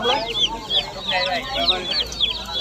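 Many chicks cheep in a busy, overlapping chorus of high peeps, close by at a Bangladeshi market selling pigeons and rabbits, with some clucking and a murmur of background activity.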